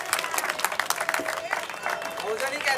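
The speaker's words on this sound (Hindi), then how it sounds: "एक बार सारे जोरदार ताली बजा दो अम्मा के सम्मान में" A crowd claps loudly in honour of an elderly woman at a public gathering, brisk uneven applause with sharp individual claps and a voice speaking over the noise.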